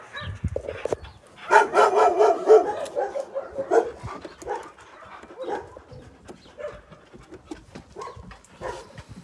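Several dogs barking, yipping and whimpering together at an animal shelter, loud and close, in bursts that fade to scattered yips.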